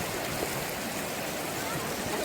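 River water flows steadily at the Pinnawala elephant bathing spot in Sri Lanka, a continuous broadband rush with no breaks, close and fairly loud throughout.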